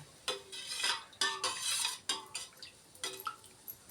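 A spoon stirs homemade bakery-style Bindu jeera juice with soaked jaggery in a pot, giving repeated quick metallic scrapes and clinks in a loose rhythm of about eight strokes, close and fairly clear with no voices.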